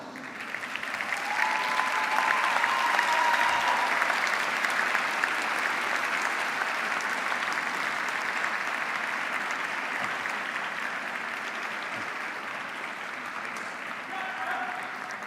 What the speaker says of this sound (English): thank them with your applause